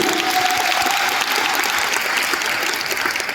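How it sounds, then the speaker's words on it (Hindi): An audience at an Amway star award ceremony in Delhi bursts into loud, sustained applause, a thick continuous wash of clapping that tapers slightly near the end. "आपके लिए जोरदार ताली गजराज जी के लिए"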